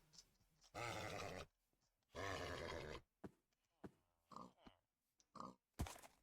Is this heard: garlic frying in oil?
no